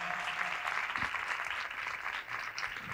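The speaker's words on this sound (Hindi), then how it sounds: "आओ हम उनके लिए तालियां बजाएं" A church congregation at a Christmas sermon gives a round of applause, steady and fairly distant, a soft continuous patter of many hands with brief low thumps.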